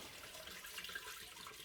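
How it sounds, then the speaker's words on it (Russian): Cold water runs softly over raw rice being rinsed, a faint steady trickle and splash with no breaks and no voices. "150 граммов сырого риса слегка промываем холодной водой"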